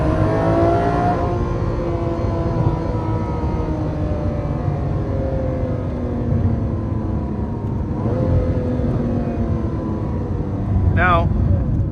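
A Lamborghini Aventador SV's V12 engine drones loudly and steadily from inside the car, with a pitch that climbs and shifts through the gears for about twelve seconds.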